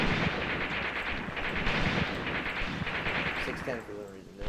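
Artillery barrage in the World War II tactics game Graviteam Tactics Mius Front: dense, rumbling booms and blasts that roll on continuously while someone talks over them.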